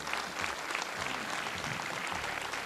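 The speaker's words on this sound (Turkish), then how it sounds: "Ve kuvvetli bir alkışı camiamız için istiyorum." A crowd at a 19 May celebration event at a sports facility in Kemerburgaz gives a strong round of applause, with dense, even clapping filling the short stretch.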